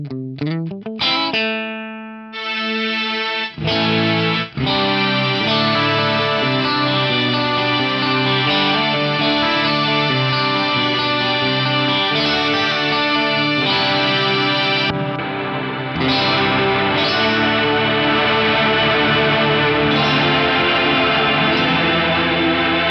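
A guitar run through an Electro-Harmonix String9 string synth pedal, blended in line ahead of an amp, plays sustained, shimmering chords with a lush string-like wash that swells continuously and fills the whole passage with no talking.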